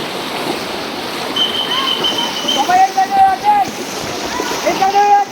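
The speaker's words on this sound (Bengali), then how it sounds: "পানির স্রোত দেখেন এখানে দাঁড়িয়ে থাকার মতো কোনো ব্যবস্থা নেই পুরো রাস্তা দিয়ে পানি ঢুকতেছে" Floodwater rushes across a road in a steady, loud roar with splashing, while several voices shout and talk over it throughout.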